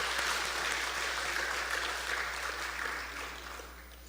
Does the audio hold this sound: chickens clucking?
no